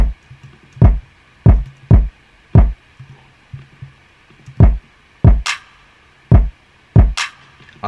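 A custom-built drum hit, shaped with distortion and EQ in FL Studio, plays in a loop of punchy, evenly spaced knocks. A brighter, clicky variant joins near the end, and the hits stand alone with no voices.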